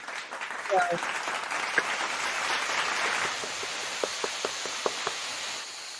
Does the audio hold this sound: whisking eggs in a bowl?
no